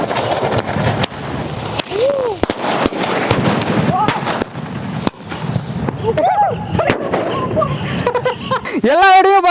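A sky shot firework in an outdoor pit whooshes up with whistling, crackling bursts and sharp pops, loud and close, ending in a rising whistle; people talk and laugh throughout.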